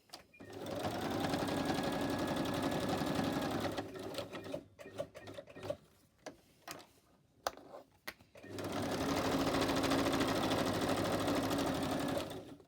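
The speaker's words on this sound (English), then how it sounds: "I'll just bring my sewing machine over a bit closer" A sewing machine runs close by in a steady whirring stitch, pauses for several seconds of quiet handling noises, then starts stitching again.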